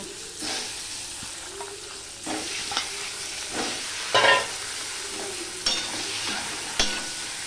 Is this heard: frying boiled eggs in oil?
yes